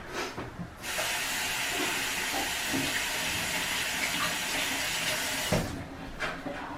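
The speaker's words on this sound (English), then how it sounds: "Let me wash my hands real quick." A kitchen tap runs steadily while hands are washed, a broad constant rush of water that starts abruptly, holds for about five seconds, then cuts off, with faint clatter afterward.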